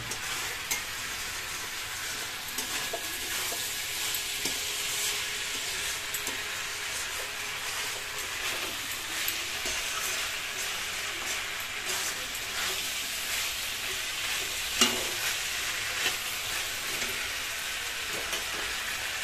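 Kohlrabi and rohu fish curry are stir-fried in a pan, giving a continuous, fairly quiet sizzle with light scraping from the stirring throughout.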